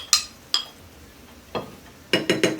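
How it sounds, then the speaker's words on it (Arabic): A metal utensil stirs chicken with paprika and grill spices in a pan, giving a handful of sharp clinks and scrapes against the metal, spaced irregularly, with a quick cluster at the end. "احلى تقليبه يا ولاد"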